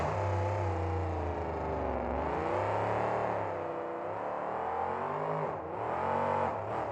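A monster truck engine roars during a 2004 freestyle show in New Orleans, revving up and down in long loud surges with a rising and falling whine.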